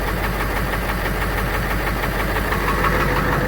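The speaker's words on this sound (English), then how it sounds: "I think I hear one injector maybe hitting kind of hard in here" A 600,000-mile Ford F250 7.3 Powerstroke diesel engine idles close by, one injector hitting hard, giving a rough, rhythmic knocking through its steady rumble.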